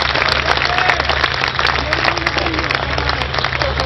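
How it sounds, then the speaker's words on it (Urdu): Audience at an All India Mushaira clapping together, dense continuous applause close and loud, with a low steady hum underneath. "ڈی آئی جی صاحب کو اسٹیج پر بھیجنے کے لیے آپ تالیاں بجائیے"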